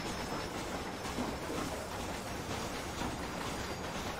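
A moving train in the Western video game Red Dead Redemption rumbles with a continuous rolling noise and soft rhythmic wheel clatter. The sound is fairly faint and steady and comes without any voices.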